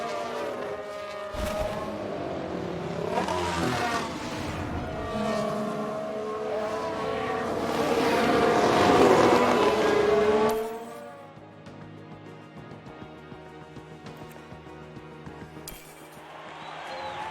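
A Red Bull Formula 1 car in the F1 Manager 1991 mod racing game, its engine screaming and rising in pitch through a replay, loud for about ten seconds before dropping away to a quieter background.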